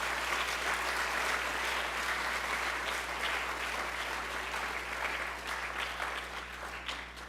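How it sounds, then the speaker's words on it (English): Sustained audience applause for speakers at a university math fair, a broad steady patter of many hands, moderately distant over a low hum, gradually thinning toward the end. "Please give them all a round of applause"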